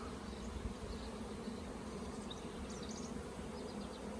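Dense, steady buzzing of a large mass of honey bees swarming out of an apiary on a sunny day, a continuous hum with no breaks and no voices.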